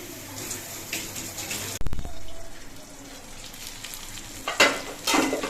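Pieces of boal fish fry in a small amount of oil, giving a continuous sizzle and crackle with a sharp clatter partway through and bursts of louder spattering near the end.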